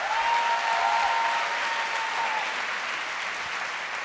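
Audience applause at a trade gathering, dense steady clapping from a large crowd that is loudest at the start and slowly eases off, with a faint whistle in the first few seconds.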